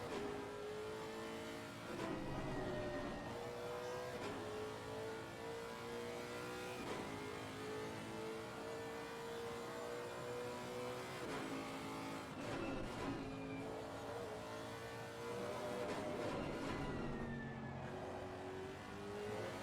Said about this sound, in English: Downshifting for that.